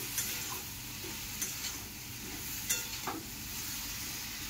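Ground spices such as coriander powder are sautéed in a pan for a Bengali chana bora curry, giving a soft, continuous sizzle with a few faint scraping stirs, and no talk.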